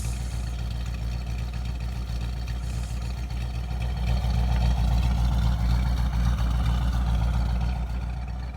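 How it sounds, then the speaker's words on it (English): A 1977 MGB fitted with a 4.0L Rover V8 runs at a steady idle, a deep continuous rumble close by that swells slightly partway through. "the sound that you hear is the actual sound of the engine"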